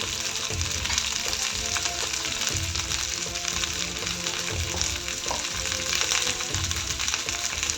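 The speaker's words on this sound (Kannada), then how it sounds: "ಇದು ಸ್ವಲ್ಪ ಕೆಂಪಾಗೋಂತ ಹುರಿಬೇಕು" Garlic frying in a pan with a pinch of salt while making bhindi masala curry, a steady loud sizzle with occasional stirring scrapes running throughout.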